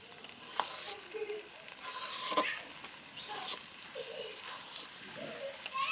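Beef and cham kochu fry in oil in a pan, giving a soft, steady sizzle with occasional stirring scrapes, fairly quiet and close, while a voice talks over it now and then.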